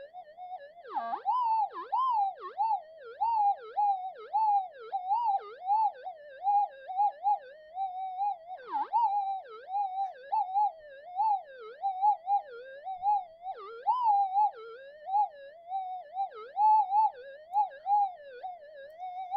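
A Minelab GPX5000 metal detector fitted with a mono coil, running indoors on fine gold settings, gives off a continuous warbling electronic tone that wavers and pulses constantly, loud and alone.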